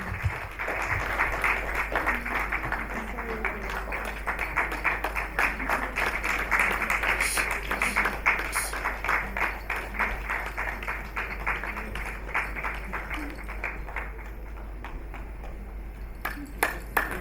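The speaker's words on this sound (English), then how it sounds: "Please keep clapping." Sustained applause from the audience at the 2021 CAHR Awards Ceremony keeps going for the whole stretch, with many sharp individual claps in a steady mid-level patter and faint voices now and then.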